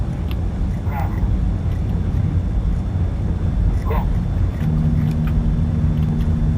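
Small airplane touching down and rolling along a runway, a steady loud rumble of engine, wind and tyre noise throughout, with a low tone rising near the end and brief voices in the cabin.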